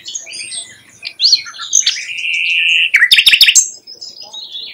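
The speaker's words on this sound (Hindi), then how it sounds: "पानी के बीचों बीच ढेरों देशी और विदेशी पक्षी अपना डेरा डाल लेते हैं" Flock of native and migratory birds gathered on open water at a Yamuna river bird sanctuary, with dense overlapping chirps, tweets and calls, a sustained whistling note and a quick burst of sharp calls, loud and close.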